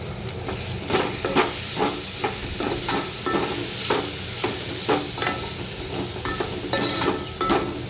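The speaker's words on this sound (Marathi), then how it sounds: "हे मसाले आपण व्यवस्थित परतून घ्यायचे" Biryani masala spices and chopped coriander sautéing in hot oil for soybean pulao, a steady sizzle with repeated scraping strokes of a spoon stirring the pan, close and fairly loud with no voices.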